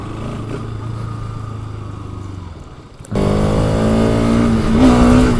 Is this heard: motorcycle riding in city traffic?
yes